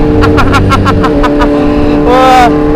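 A supercar revs loudly in a street-racing video game, a rapid series of rising engine pulses followed by a brief high-pitched whine, up close and continuous with no talking.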